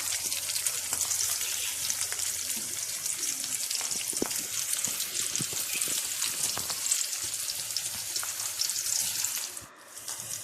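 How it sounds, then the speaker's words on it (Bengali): Green chilies frying in hot oil in a pan, a bright crackling sizzle with scattered pops and spits, steady and close, with a brief dip near the end. "তো একটু হালকা ব্রাউন করে ভেজে নেব"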